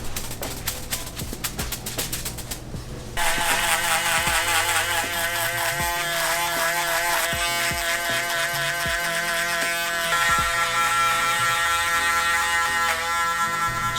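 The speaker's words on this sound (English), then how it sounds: "It's gonna really help our foil shaver to just glide over it really nicely." An electric foil shaver runs against a neck during a bald fade, a steady high buzzing drone with a fainter stretch in the opening seconds, then a louder, constant whir that holds for the rest of the clip with no talking.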